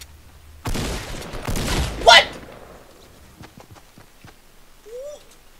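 Shotgun fire in the video game Fortnite: a loud burst of blasts with one sharp, cracking shot at its peak, followed by quieter scattered game sounds.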